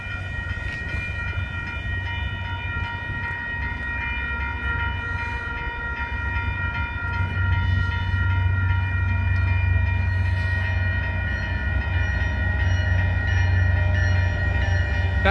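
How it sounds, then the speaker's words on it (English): An MBTA commuter train hauled by an F40PH-3C locomotive rumbles steadily past a road crossing at close range, its noise swelling toward the end, with a sustained horn tone held over the rolling clatter. "And the train is going to be coming right over here."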